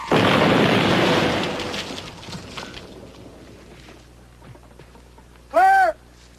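Live grenade exploding, a loud booming blast with a long rumbling decay that fades over a couple of seconds, followed by quiet and then a brief loud shout.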